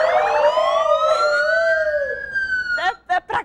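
Newsroom staff vocally imitate a police siren, producing rising and falling wailing tones that hold for nearly three seconds before breaking into short choppy vocal bursts.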